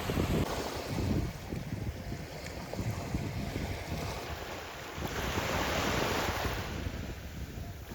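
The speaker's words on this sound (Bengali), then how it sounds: "আর সাথে তো সমুদ্রের একটা গর্জন, যেটা ভীষণই ভালো লাগে।" Sea waves roar continuously on the beach at Mousuni Island at sunset, a broad, steady rushing surge with gusts of wind buffeting the microphone and no voices.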